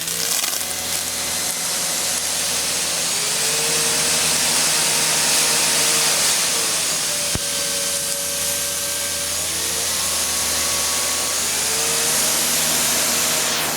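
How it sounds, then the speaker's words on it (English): An EGO Power+ brushless electric pressure washer motor hums steadily alongside a loud hiss of spraying water, its tone rising and shifting in pitch several times over a continuous roar. "The motor definitely sounds different."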